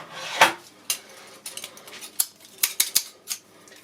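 Metallic clatter and scraping as a pair of scissors is handled during the unboxing of a Hyperkin SupaRetron HD console, with irregular sharp clicks and clinks close by and a few rubbing sounds between them.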